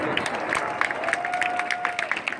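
Outdoor crowd at an FA-18 aerobatic display applauding the pilot, a steady wash of scattered claps with a few sharper nearby claps and a faint sustained tone underneath, moderately loud throughout.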